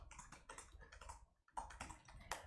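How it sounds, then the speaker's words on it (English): Rapid clacking of computer keys in quick bursts, a short pause, then more typing; close, quiet, and without any voices. "Typing noises in the background."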